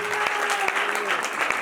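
A church congregation claps during a sermon, a short burst of dense applause heard close up with a voice speaking over it.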